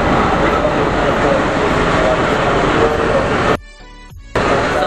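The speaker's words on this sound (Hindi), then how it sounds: "समस्तीपुर का WTN3 ये लोकोमोटिव पुल कर रहा है हमारी ट्रेन को।" An Intercity Express from Rajendra Nagar Terminal to Saharsa, hauled by a Samastipur WTN3 locomotive, rumbles and rattles loudly and continuously from inside a coach, briefly dropping away before the noise returns.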